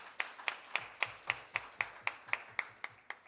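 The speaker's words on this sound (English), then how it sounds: "Let's give them a round of applause." A single person claps in a slow, steady rhythm, about a dozen sharp claps, fairly faint, with no voices.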